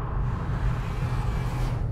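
A BMW M3 E90 V8 engine pulling hard near 6,000 RPM, a loud, dense ripping roar with a low rumble, sustained and unbroken, with no voices.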